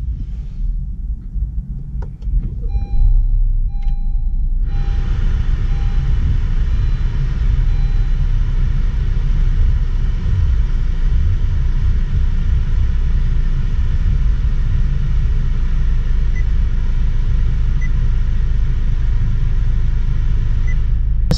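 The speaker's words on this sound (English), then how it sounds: "So let's start this car." A 2018 Honda Civic Coupe engine cranks briefly after a few quiet clicks, catches and settles into a steady, loud, even idle with a low rumble that holds unchanged for nearly twenty seconds, with no talking.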